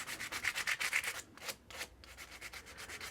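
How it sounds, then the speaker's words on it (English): Coarse sandpaper rubbing quickly over a wooden atlatl from a kit: a close, steady run of rough scraping strokes, briefly pausing and then resuming, with no talking. "I'm going to very quickly sand it with a coarse sandpaper"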